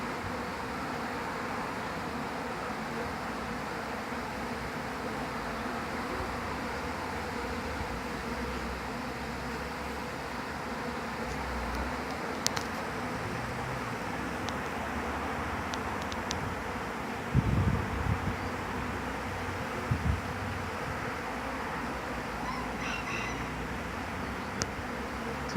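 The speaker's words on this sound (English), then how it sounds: "this swarm did seem to be established and going in" A swarm of bees settles into and enters a hive, a steady diffuse buzzing that fills the air throughout, with light wind noise and a few brief louder bumps close to the microphone.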